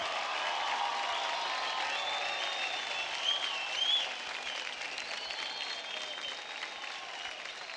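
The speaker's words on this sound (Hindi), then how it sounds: "जोरदार तालियां हो जाए अरशद वारसी और दिया मिर्जा के लिए।" A studio audience on an Indian TV dance competition applauds celebrity guests with sustained, dense clapping and faint cheering, steady throughout with a brief swell midway before easing slightly.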